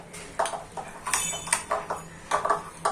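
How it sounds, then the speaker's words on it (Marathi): A whisk or spoon rattles rhythmically against a metal bowl, pinging as equal parts ghee and cornflour are beaten into a creamy paste, with steady, quick, close strokes and no talk. "आता ह्याचं आपल्याला क्रीम सारखं पेस्ट बनवायचे, म्हणून ते व्यवस्थित फेटून घ्यायचंय।"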